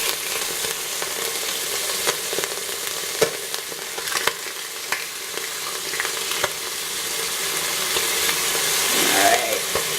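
Ranch-seasoned pork chops browning in a hot pan give off a close, steady sizzle with scattered sharp pops and spits, swelling louder toward the end.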